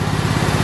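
A Hobart generator engine, plugged into a shop light in run-idle mode, drones loudly and steadily with a fast pulsing beat as it idles down. No voices.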